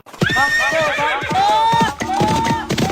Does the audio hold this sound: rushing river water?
no